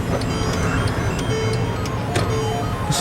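A 2016 Mercedes-Benz E350 4Matic sounds its hood-open warning chime, a few soft repeating tones ringing over a steady cabin hum, close and fairly loud.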